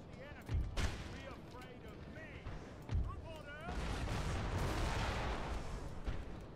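Musket volleys and artillery booms ring out in a Napoleon: Total War battle, with several loud separate shots followed by a sustained rolling fusillade. Someone talks over the gunfire.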